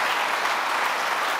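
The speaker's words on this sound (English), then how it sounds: "And yes, you can applaud that." Audience applause at an awards ceremony fills the whole moment, a dense, even patter of many hands clapping at steady volume with no voices.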